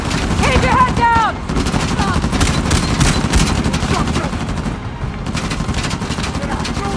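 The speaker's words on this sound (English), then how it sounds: "They've got a mounted gun!" Mounted gun firing in the video game Uncharted The Lost Legacy, rapid bursts of loud gunfire crackling throughout with explosive booms, while a player talks over the action.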